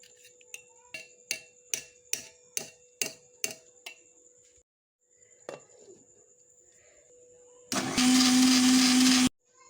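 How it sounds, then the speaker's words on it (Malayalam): A kitchen blender whirs loudly and steadily for about two seconds, churning an Oreo biscuit shake with a teaspoon of whipping cream, after a series of sharp rhythmic clicks from the jar and lid being set in place. "1 ടീസ്പൂൺ വിപ്പിംഗ് ക്രീമും കൂടെ ഇട്ട് നമുക്ക് അടിച്ചെടുക്കാം."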